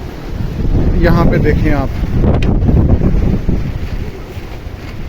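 Strong wind roars into the microphone during a rainy sand storm on an open sandy plain, a loud continuous gusting rush while someone speaks over it.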